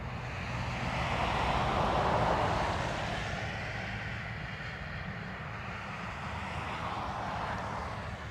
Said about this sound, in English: On taxi to San Fran, Aer Lingus, A330 and Delta 767 going to JFK.